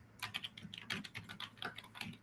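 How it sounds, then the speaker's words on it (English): Someone types an email on a computer keyboard, producing a faint, steady patter of keystrokes at an even pace over soft background hum. "I'm typing in the email so that everyone can see."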